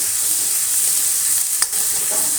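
Tomato kurma masala sizzles steadily in a pan, a close, even hiss broken by a single brief scrape as it is stirred.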